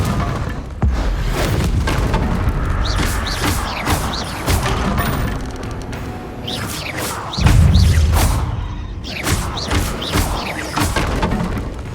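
Confringo fire spells bursting in Hogwarts Legacy, repeated heavy booming thuds and crashing impacts with splintering debris and whooshes, loud and close against a rumbling game backdrop, no talking.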